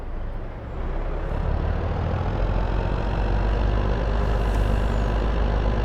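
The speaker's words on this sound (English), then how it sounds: "Oh, I think I left the JCB running." A JCB left running in Farming Simulator 22, its engine idling with a steady low mechanical rumble that holds constant and fairly loud throughout, no voices.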